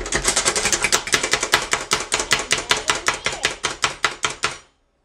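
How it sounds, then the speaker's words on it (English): Food chopper pulsing through pickles, a rapid, loud series of sharp chopping thuds in steady rhythm that stops abruptly after about five seconds. "here I have my chopper, which is gonna be a little bit loud, but you can always use a knife"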